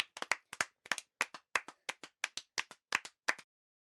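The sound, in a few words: classroom children clapping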